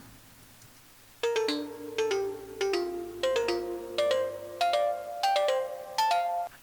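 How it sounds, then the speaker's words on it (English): DX7 synthesizer playing the Mileto mallet preset, bright bell-like struck notes with a sharp attack in quick repeating rhythmic groups over a low sustained pad, clear and close, a single spoken word at the very start. "that's the DX7 with the Mileto preset"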